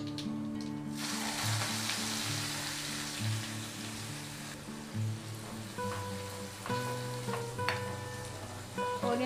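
Onions dropped into hot oil with popping mustard seeds, cumin and asafoetida, a dense crackling sizzle that settles into a steady fry with occasional sharp pops and clinks, close and alone.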